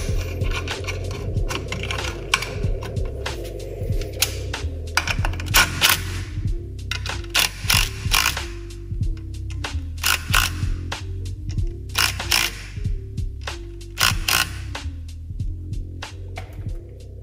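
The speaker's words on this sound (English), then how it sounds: "simply reinstall the nuts and tighten everything up" Ratchet wrench tightening the nuts that hold a brake master cylinder to the booster in an EG/DC Honda Civic engine bay, a steady run of close, rapid clicking in short bursts with brief pauses between, no talking.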